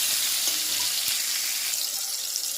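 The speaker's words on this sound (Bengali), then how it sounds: "এবার আমি এটা কষাবো।" Green chilies, tomatoes and five-spice seeds sautéing in a pan for a paneer dish, a steady loud hiss and sizzle that runs unbroken and close throughout, with faint stirring taps.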